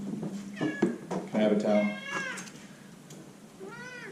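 A cat meows several times in a home brewing space during mead racking, clear rising-falling calls close to the microphone, interleaved with people talking.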